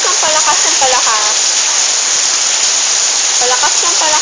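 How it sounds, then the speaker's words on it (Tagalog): Heavy rain pouring down in a garden, a loud dense roar that keeps building in strength, with a voice briefly speaking over it at the start and again near the end. "Palakas ng palakas ng palakas ang ulan."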